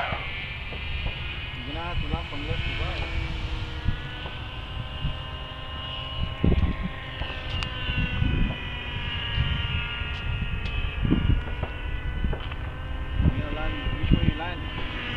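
E-flite F-86 Sabre RC model jet coming in to land fast at a flying field, a continuous ducted-fan whine with shifting pitch, moderately near, with someone talking over it.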